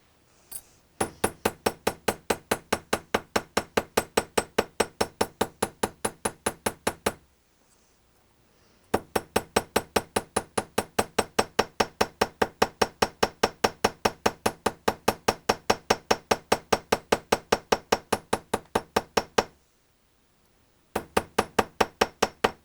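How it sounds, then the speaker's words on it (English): Rapid, steady hammer strokes ring out on metal, likely a jewelry piece being textured, in long even runs of sharp clinking blows with two brief pauses, close and loud with no talking. "make sure that your hammer strokes overlap here"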